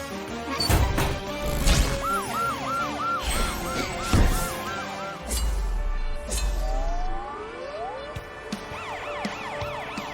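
Cartoon emergency vehicle siren wails in a repeating rising-falling pattern through the middle, mixed with loud crashes and thuds of an animated chase, with a brief swooping tone near the end.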